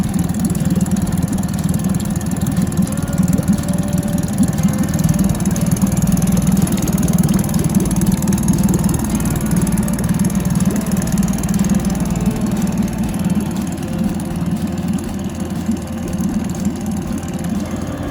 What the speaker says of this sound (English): we have to idle the motor for 10 minutes